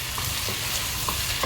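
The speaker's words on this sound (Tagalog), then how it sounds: "Halu-haluin." Pork steak sizzling steadily in a hot home-kitchen pan as it is stirred, with a few soft scraping knocks of the utensil cutting through the constant frying hiss, close and alone with no talking.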